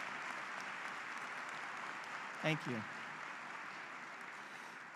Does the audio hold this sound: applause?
yes